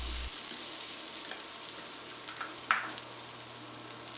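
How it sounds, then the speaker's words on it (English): Zucchini slices frying in a tablespoon of oil in a skillet produce a quiet, even sizzle with light stirring touches and one brief sharper clink near the end, heard up close and alone. "Add 1 tablespoon of oil and fry the zucchini slices."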